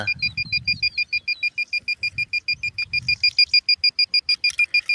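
A metal detector sounds a rapid run of high, pulsing electronic beeps as it passes over buried metal outdoors, close and steady throughout, with faint low murmuring behind.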